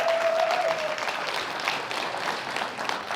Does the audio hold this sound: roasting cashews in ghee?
no